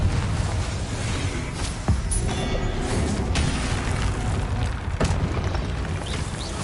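Confringo blasting spells explode in Hogwarts Legacy, a dense run of booming bursts and crashes with sharp cracks near 2 and 5 seconds over a constant rumbling game soundscape.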